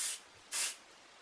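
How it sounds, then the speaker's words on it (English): Two short, bright hissing bursts of spray wax misted onto hair, close and fairly quiet, separated by a brief pause. "use some spray wax"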